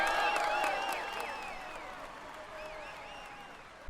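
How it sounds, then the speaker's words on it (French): Crowd applause and cheering at the first stage of the 2016 Tour de France, a dense wash of clapping that slowly fades, with whistles and a commentator's voice above it. "Allez, on applaudit encore."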